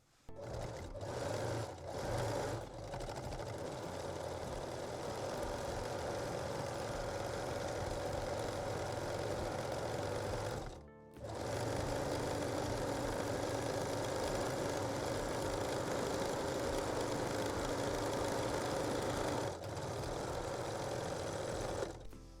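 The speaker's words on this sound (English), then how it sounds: "You can use zigzag, 3-step zigzag or cover stitch machine. I am using the 3-step zigzag today." Sewing machine running a 3-step zigzag stitch over elastic for a lace bralette, a steady close whirring drone lasting most of the stretch, with a short stop near the middle and brief dips early on.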